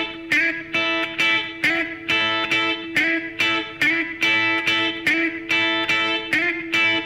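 Electric guitar slides on the 3rd string alternate with pairs of double-stop hits, distorted and loud, in a steady repeating rhythm with no talking.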